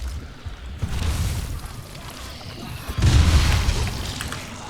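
An exploder zombie blows up in the Dying Light video game, a deep rumbling boom that swells in two waves over a continuous low roar.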